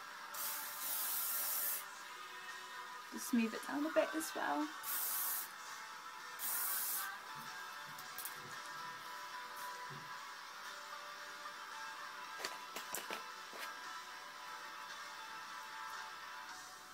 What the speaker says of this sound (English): Just use your spray to secure that flat bit down.